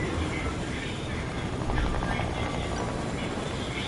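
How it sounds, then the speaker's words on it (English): A helicopter in a PS4 video game gives a steady, dense rotor-and-engine roar that holds at an even level for the whole stretch, with no one talking over it. "Get in the helicopter."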